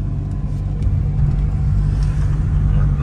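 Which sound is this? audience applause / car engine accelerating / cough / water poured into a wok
car engine accelerating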